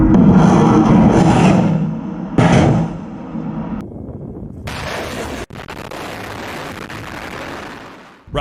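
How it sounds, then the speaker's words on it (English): An M270 MLRS launcher fires, giving a loud, close roaring blast that rumbles for several seconds and is followed by a second surge, then a sustained rushing noise that cuts off sharply. "This is America's M270 rocket launcher."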